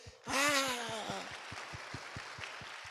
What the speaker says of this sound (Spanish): todo el mundo aplauda